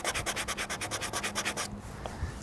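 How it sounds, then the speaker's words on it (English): A sanding tool scrubs aggressively at a rust spot on a truck in a steady, rapid back-and-forth rhythm, close and loud, then stops and leaves a quieter tail. "Just gonna need a bit more aggressive sanding on this rust spot."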